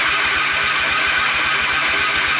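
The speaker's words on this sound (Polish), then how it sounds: "Co się stanie, jak ja nacisnę rozrusznik?" Suzuki Intruder 125 motorcycle starter cranking on a weak, low battery: a steady, rapid low pulsing churn throughout, loud and close, with no talk over it.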